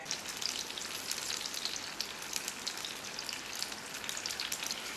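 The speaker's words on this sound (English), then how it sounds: "I have a tablespoon of olive oil heating here. I'm going to strain my blended chilies into here." Strained blended chilies hit hot olive oil in a pan and sizzle with a dense, steady crackle like rain. It stays close and fairly loud for the whole five seconds, with no talking.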